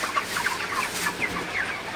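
Broiler chickens on a farm cluck in a soft, steady chorus of short calls, moderately close and continuous with no talk.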